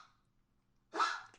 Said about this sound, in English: What a stupid dog.